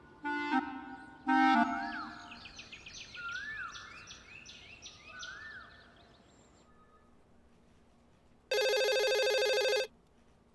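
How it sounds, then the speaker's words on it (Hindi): An old-style telephone bell rings in two short bursts near the start, then again in one long, loud burst later on. Chirpy bird-like electronic tones are heard between the rings, and no one speaks. "परेशान करके रख दिया आज फोन ने।"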